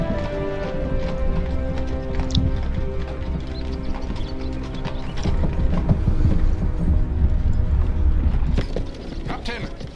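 Horse hooves clip-clop in a steady rhythm alongside creaking mechanical rattles, with someone talking over the scene, in the video game Medieval Dynasty.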